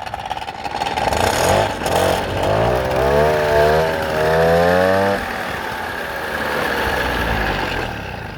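A small two-stroke Motobecane Mobylette 50V moped engine buzzes loudly nearby, revving up and down with a wavering pitch before settling into a rough idle.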